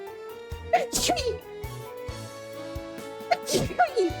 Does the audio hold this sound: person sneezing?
yes